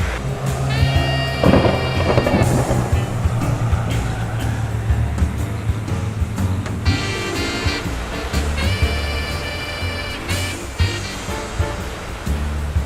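Heavy rain roars steadily with a deep rumble of thunder during a severe storm, heard from an aircraft hangar, while sharp whining tones and clatter rise and fall over the downpour.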